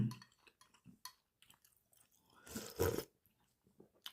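Someone chews plant-based food near the mic, with soft wet bites and a brief crunchy burst in the middle, quiet and irregular with no talking.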